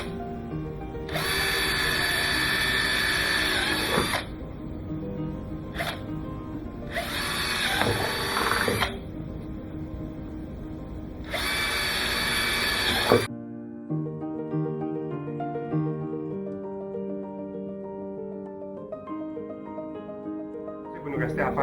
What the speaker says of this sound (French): et je vais venir percer mes trous. Vous allez utiliser une mèche 3/8,